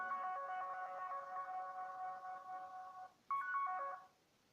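Remote play-sound alert from Find My Device blares from a mobile phone nearby, a continuous ringing tone that cuts off briefly, resumes for a short burst, then stops, leaving quiet.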